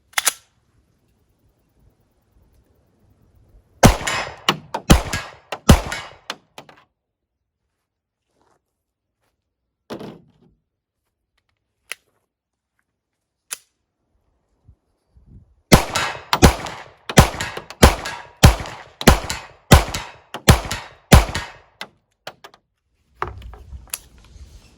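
A Walther pistol fires with modified range magazines at an outdoor shooting test, loud sharp shots coming in two quick strings of several rounds each, with a few isolated shots and long quiet gaps between them.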